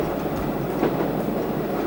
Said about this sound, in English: This is the Great Central Railway in 1981, approaching Swaithe just before closure.